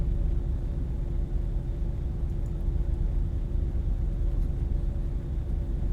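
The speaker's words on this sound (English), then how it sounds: "All you hear is the engine, and that is pretty much it." A truck engine in the Euro Truck Simulator 2 video game hums as a steady, low, continuous rumble at moderate volume, with no other sounds and no talk.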